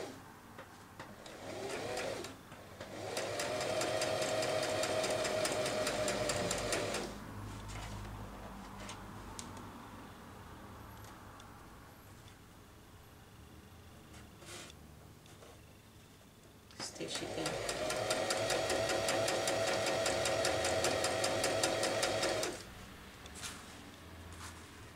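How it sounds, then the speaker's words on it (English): A sewing machine stitches a chiffon V neckline in two bursts of steady, rapid mechanical whirring, each lasting several seconds, with a quieter stretch between them and soft talk underneath. "So you're stitching it, take your time, arrange it nicely, you know, then you stitch again."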